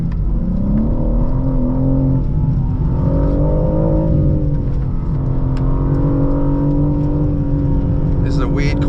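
A 2025 BMW M4 CS engine pulls under power on a track, a loud, steady droning rumble whose pitch wavers as the car corners. Someone talks over it throughout from inside the cabin.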